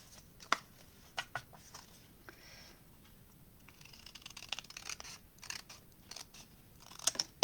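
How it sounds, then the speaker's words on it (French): Scissors snip through folded card for a handmade greeting card, with a handful of quiet, irregular cuts and brief scratchy rustles between them. "Ça va aller plus vite pour couper. Et mon ciseau."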